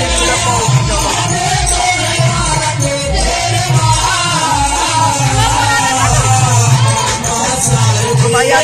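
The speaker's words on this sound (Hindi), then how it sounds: "तो भाई देख सकते हो दोनों तरफ ही बहुत ही ज्यादा भीड़ है इतनी साइड।" Dense outdoor crowd gathered to welcome Sapna Chaudhary, a loud continuous mix of voices and commotion over a thumping rhythmic music beat.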